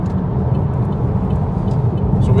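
Steady road roar of a car cruising down an English motorway during rush hour, a continuous broadband engine and tyre rumble heard from inside with no clear changes.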